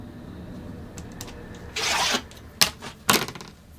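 A rotary cutter slices the selvage off quilting fabric along a 12-inch ruler, making a close rasping cut followed by a couple of sharp clacks and a second short scrape as the ruler shifts.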